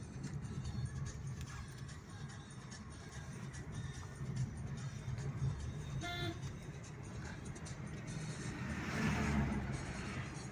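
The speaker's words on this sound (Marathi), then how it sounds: "गाड्या चालूच राहते तिथून." Steady traffic rumbles past near Sahyadri mountain in Maharashtra, a continuous low wash of engines with a brief horn toot midway and a swell of a closer vehicle toward the end.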